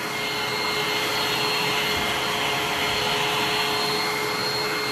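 A blow dryer drying paint roars steadily and loudly throughout, a constant broadband whoosh with a faint high whine, no voices.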